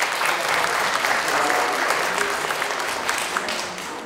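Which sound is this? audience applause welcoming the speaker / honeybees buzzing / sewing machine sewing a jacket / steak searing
audience applause welcoming the speaker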